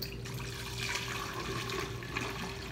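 Simple syrup and brandy-orange mixture poured into a pitcher for homemade Grand Marnier, a steady soft trickle and splash of liquid, fairly faint and continuous.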